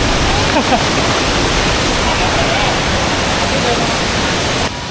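A loud, steady roar of rushing water from a nearby waterfall, Krok I Dok Waterfall in Thailand, dominates throughout, with faint voices buried beneath it.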